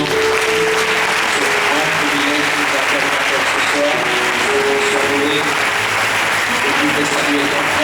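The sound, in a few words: congregation applause offering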